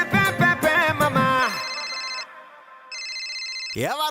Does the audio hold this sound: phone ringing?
yes